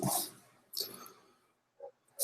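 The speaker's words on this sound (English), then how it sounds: "there's the dog again." A dog barks in a couple of short bursts, the first right at the start and another just under a second later, followed by faint scattered noises and quiet gaps.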